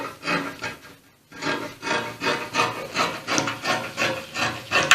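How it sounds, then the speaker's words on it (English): Scissors cutting fabric for a high-low sleeve pattern give close, repeated crisp snips and rasping rubs in an even rhythm, a short pause early on, then steady strokes continuing, with no voices. "So I just cut it out like this."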